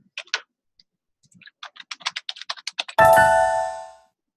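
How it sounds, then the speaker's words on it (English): Someone types a quick run of clicking keystrokes on a computer keyboard, pauses, then taps a faster burst before a sharper key press, likely Enter, followed by a ringing chime that fades out. "Guess I hit enter on the keyboard, so that's why it went."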